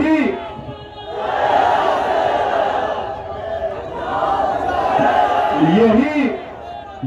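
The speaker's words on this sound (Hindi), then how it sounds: "तो जोर से नारा लगाइए" A large rally crowd in Jaunpur at a politician's speech roars the Takbir slogan in loud, sustained waves, two swelling chant bursts of many voices filling the air.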